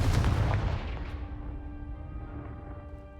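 Confringo blast spell exploding in the video game Hogwarts Legacy, a heavy, loud boom with a deep rumbling body that decays slowly into a fading ringing tail, no talking.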